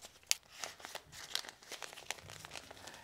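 A paper envelope is folded and tucked shut, giving a series of soft, close crinkles and crackles with a few sharper crisp snaps, fairly quiet and irregular.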